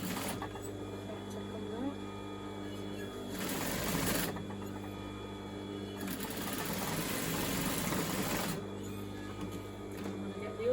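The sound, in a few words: sewing machine stitching inside the overlocking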